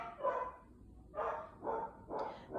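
A dog barks four times at an uneven pace, each bark muffled and somewhat distant, with quiet gaps between them and no talking.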